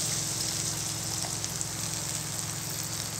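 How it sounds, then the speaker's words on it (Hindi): Half a cup of water poured into peas frying in a pan for matar pulao, a steady gushing, sizzling wash that runs close and continuously through the short stretch with no talk. "अब इसमें यहाँ पे 1/2 कप पानी ऐड कर देंगे"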